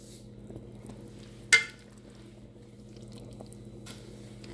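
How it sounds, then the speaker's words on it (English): Chicken and dumplings are stirred in a pot on the stove, one sharp scrape of the spoon against the pot among soft gentle stirring over a steady low simmer and hum. Close, with no voices. "I just keep stirring them so they won't stick at the bottom"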